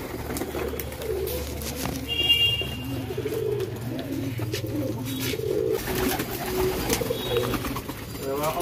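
Many pigeons coo in soft, repeated throaty rolls at a pigeon farm in Nabadwip, with the calls overlapping close by, a few higher chirps, and faint background murmur.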